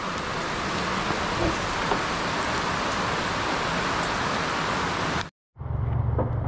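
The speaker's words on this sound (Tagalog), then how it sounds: "kanlong lang po tayo at ang lakas ng ulan" Heavy rain pours steadily in a dense, loud, continuous hiss, broken by a brief silence before resuming slightly softer.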